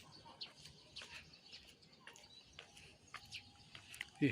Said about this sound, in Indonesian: Pagi ini burung-burung berkicau